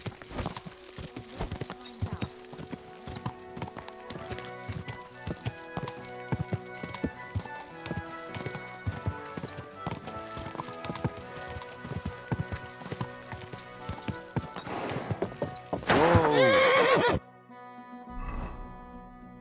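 Rhythmic hoofbeats of a galloping horse in Kingdom Come: Deliverance 2 run steadily under a busy game soundtrack, then a short whinny near the end before things go quiet.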